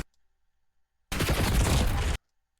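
A single sustained burst of rapid automatic gunfire in Black Ops 6, about one second long and fairly close, standing alone between stretches of silence, with no talking.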